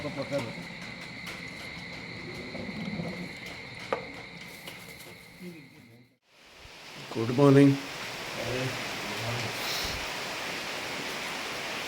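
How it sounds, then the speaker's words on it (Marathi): Rain hisses steadily, a soft broadband wash that swells louder in the second half, with insects chirping and a brief voice. "मस्त पाऊस पडतो यार"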